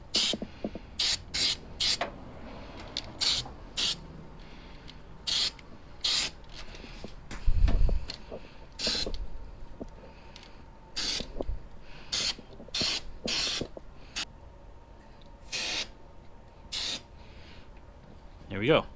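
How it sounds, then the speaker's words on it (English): Weld-through primer is sprayed from an aerosol can onto bare metal during a 1992 Camaro battery tray rust repair. Close hissing bursts, most of them short, repeat irregularly, with muffled talk and a low thump in the background. "I'm going to hit this now with some of that weld through primer."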